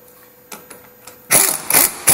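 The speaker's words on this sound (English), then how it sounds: "I'm going to use an impact gun just to" Impact gun removing the locking nut from a Land Rover Adwest steering box during an overhaul, with a few light clicks followed by loud, close bursts of rattling hammering.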